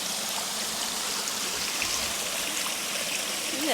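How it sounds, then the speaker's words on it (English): A small waterfall on a hiking trail rushes in a close, steady, full-bodied wash of splashing water with no pauses and no talking. "come across this waterfall"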